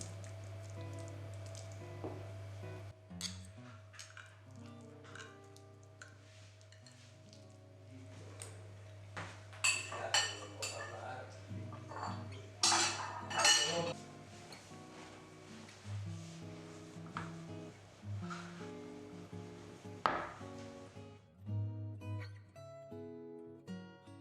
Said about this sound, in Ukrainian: На кожен шматочок буду класти ложку сиру з майонезом